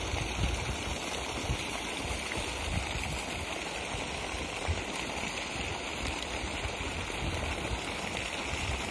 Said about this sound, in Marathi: बघा पाण्याचा प्रेशर, उन्हाची तीव्रता जशी जशी वाढेल तसं पाणी जास्त मारतंय